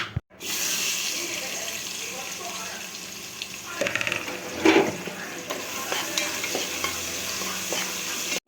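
Onions fry in a pot with cardamom and cloves for egg biryani, a loud steady sizzle with stirring and scraping that intensifies midway, heard close with no talking.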